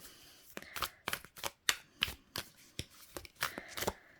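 Tarot cards being shuffled in quick riffling bursts, several crisp flutters separated by short pauses, close and fairly quiet.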